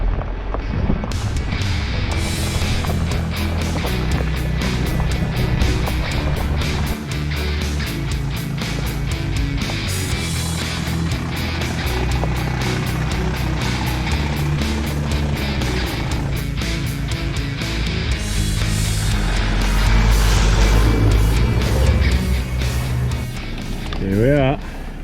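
A vehicle driving off-road in Spain toward a campsite, a continuous rumbling engine and tyre drone with wind buffeting and rattling bumps, close and steady throughout.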